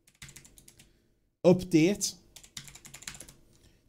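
Keys clatter on a computer keyboard as a command is typed, light rapid clicks in bursts, with someone speaking briefly in the middle.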